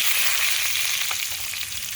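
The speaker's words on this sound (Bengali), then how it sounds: "এখন আমি পেঁয়াজ কুচিটাকে বাদামি করে ভেজে নিব।" Chopped onion and whole cumin sizzle in hot oil in a wok, a steady bright crackling fry close by with occasional soft stirring, no voices.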